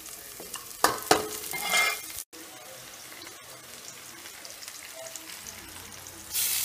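Fish frying in a pan crackles and sizzles steadily, with a few clanks and scrapes near the start, then a brief drop out before the sizzle continues.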